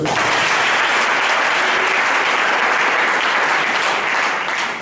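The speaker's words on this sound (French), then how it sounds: "Acclamez le Seigneur." A church congregation applauds and cheers for the Lord at a Sunday service. The clapping is loud and dense, a continuous crowd ovation lasting throughout and fading slightly at the end.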